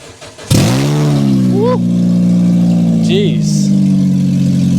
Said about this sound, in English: let's start the car up and let's go